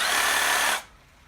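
Battery-powered saw fitted with a wood blade, running at a steady high-pitched whine before abruptly winding down to silence partway through.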